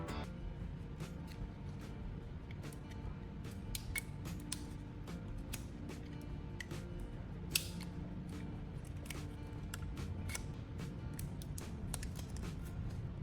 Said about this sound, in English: use a knife to remove the outer plastic insulation